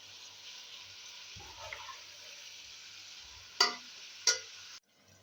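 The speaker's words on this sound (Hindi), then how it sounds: "यहाँ पे प्याज को फ्राई होते हुए तकरीबन 6 से 7 मिनट हो चुके हैं।" A large batch of onions fries in plenty of ghee for biryani, a faint, steady hiss broken by two sharp clicks of a utensil before the sound cuts off near the end.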